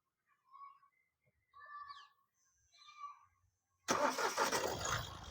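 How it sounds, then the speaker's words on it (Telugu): A 2016 Mahindra TUV300 engine cranks and fires on a single self-start, settling into a loud, broadband running rumble close by after a few seconds of quiet with birds chirping softly in the background. "బండి అయితే సింగల్ సెల్ఫ్ అయితే స్టార్ట్ అవుతుంది. ఇంజన్ ఓకేనండి."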